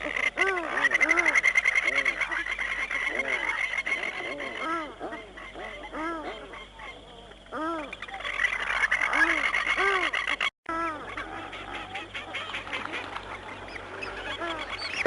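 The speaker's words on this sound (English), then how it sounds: "The loud honking you can hear are the calls of mountain duck." Australian shelducks (mountain ducks) in a wetland give loud, repeated honking calls in a steady rhythm, with other waterfowl calling faintly in the background.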